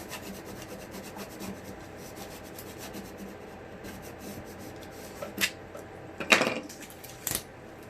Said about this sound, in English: just go back over and rub until it comes up